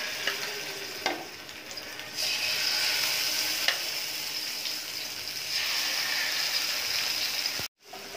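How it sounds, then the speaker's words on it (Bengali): Fish dropped into hot oil in a kadai sizzles and crackles steadily, with the frying growing louder in surges and a few sharp clinks of stirring, close up with no talking. "তেলটা গরম হয়ে গেছে, মাছ দিয়ে দিলাম।"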